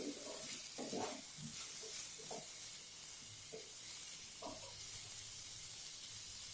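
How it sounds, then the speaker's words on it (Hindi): A Rajasthani masala tinda (round gourd) curry is stirred in a pan, with soft spoon scrapes and taps over a faint, steady sizzle. "अब हम इसको अच्छी तरीके से एक बार मिक्स करके और 1-2 मिनट के लिए इसको थोड़ा सा हम और पका लेंगे।"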